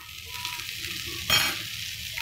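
Butter sizzling in a pan on a gas flame for classic sweet corn, a steady hiss that swells briefly in the middle and then settles, close and alone.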